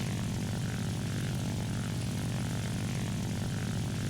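The J7W1 Shinden, a propeller-driven fighter in the War Thunder video game, drones with a steady, buzzing engine roar and a throbbing propeller pulse, loud and constant throughout, with no talking.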